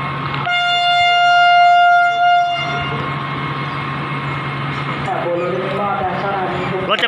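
Thai express train 111 from Bangkok Aphiwat to Den Chai sounds a long, loud horn, then rumbles on at a steady pace, with someone talking over it.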